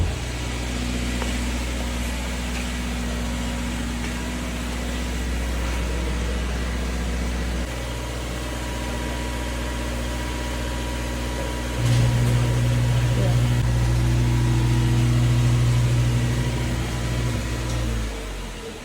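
A home garage door opening with a steady motorized drone that grows louder and deeper partway through, mixed with a low engine hum, with no speech.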